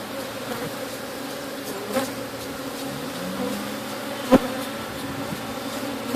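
Honey bees drone steadily around an opened hive during a split, a dense continuous buzz with a few brief closer passes and a sharp tap partway through.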